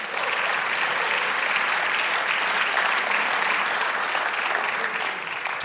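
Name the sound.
church congregation applauding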